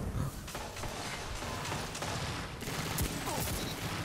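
Rapid hand cannon gunfire from the Dire Promise in Destiny 2 during a firefight, shots cracking in quick succession over dense game noise and background clatter.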